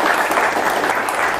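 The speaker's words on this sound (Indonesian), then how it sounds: "kita berikan tepuk tangan dulu" Studio audience applauding on an Indonesian television debate show, a dense, steady wash of many hands clapping at constant loudness throughout, with no voices over it.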